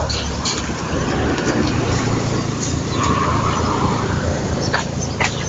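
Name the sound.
car passing by on a neighborhood street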